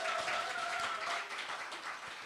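Audience applause during a Sunday church service, a soft blur of many hands clapping at a distance that gradually fades.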